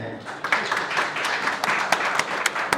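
Clapping from an audience at a food awards ceremony, a moderately loud scattered round with distinct individual claps standing out over the crowd.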